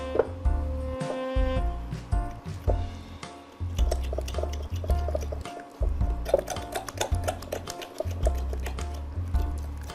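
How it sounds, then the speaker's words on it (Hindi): Water poured into a thick millet flour batter in a kitchen, giving soft liquid splashing and squishy dripping with occasional light clinks, mixed with steady background sound throughout. "तो ये हम इसमें पानी डाल लेते हैं और बिल्कुल गाढ़ा सा एक बैटर बना लेंगे।"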